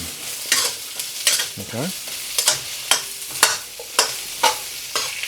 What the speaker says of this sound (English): Going to add my Brussels sprouts, and we're just going to start to fry them off again.